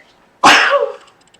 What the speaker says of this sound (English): I had a sneeze, sorry about that.